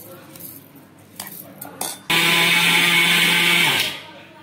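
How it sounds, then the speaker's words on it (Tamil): A mixer grinder jar grinds soaked rice for athirasam, starting abruptly with a loud, steady whir that holds for about two seconds and then winds down, after a few light clinks beforehand. "அந்த அளவுக்கு அரிசியை சேர்த்து மிக்சி ஜாரில் சேர்த்து நுணுக்கிக்கலாம்"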